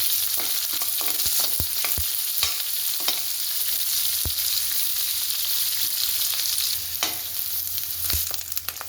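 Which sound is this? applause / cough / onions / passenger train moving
onions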